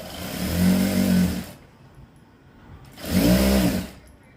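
A sewing machine stitching a blouse runs in two short bursts of about a second and a half each, separated by a pause, with a loud close whirring hum and no talk.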